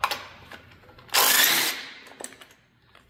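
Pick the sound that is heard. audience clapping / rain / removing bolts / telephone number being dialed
removing bolts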